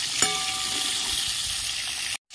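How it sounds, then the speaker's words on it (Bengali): Pieces of pointed gourd sizzle steadily in hot oil with nigella seeds, a dense, even frying hiss with a faint scrape near the start, ending abruptly. "পটলগুলো আমি ভেজে নিচ্ছি। তেলের মধ্যে সামান্য একটু কালো জিরে দিয়ে দিচ্ছি"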